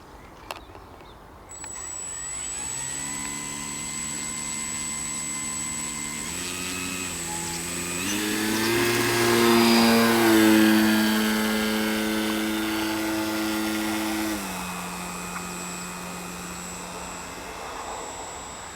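A small propeller aircraft takes off from a grass field. Its engine drone starts close and steady, climbs in pitch and loudness as it speeds up, then eases off and fades slightly as it moves away.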